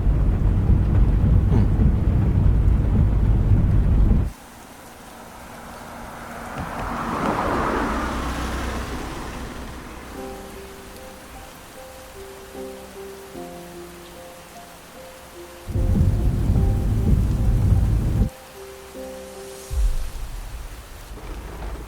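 Heavy rain pours down in loud bursts of hissing downpour, and a deep rolling rumble of thunder swells in between. Soft musical tones play during the quieter middle stretch.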